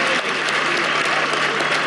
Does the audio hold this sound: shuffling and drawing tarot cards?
no